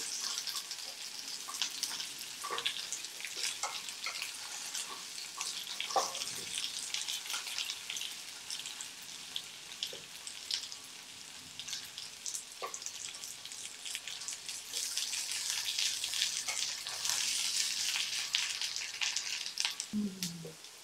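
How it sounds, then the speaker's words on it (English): Meat, carrots and potatoes browning in a pan for beef stew give a soft continuous sizzle, fairly faint and steady, with a few light clicks of utensils and a brief splash of running water near the end. "once you've gotten a little bit of a browning on your vegetables, that goes right into the rice cooker as well"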